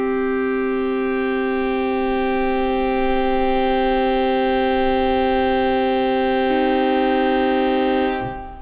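A Yamaha EX5 synthesizer plays an FM self-modulation patch, a sustained rich tone that grows brighter and shifts partway through before cutting off near the end, heard alone.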